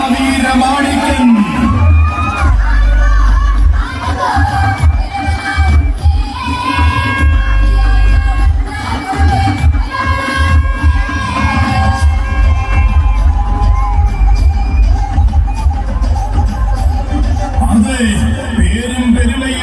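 At a temple festival, a crowd cheers, whoops and yells loudly as a temple elephant named Peringoth Mahaveera Manikyan arrives, with bangs and shouts mixed through a continuous roar and a voice talking over parts of it.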